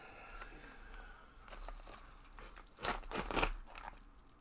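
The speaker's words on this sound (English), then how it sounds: "let's rip it open and see what we got here." Close-up crinkling and ripping of an NFL card pack's packaging, building to a couple of louder tearing bursts near the end.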